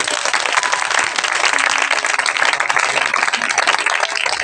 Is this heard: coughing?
no